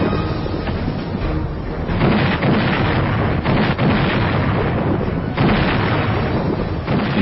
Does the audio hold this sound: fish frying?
no